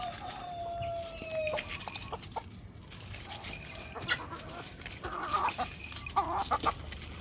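Chickens cluck at feeding time in a farmyard, with several birds making overlapping soft clucks and short calls alongside rustling and light knocking noises.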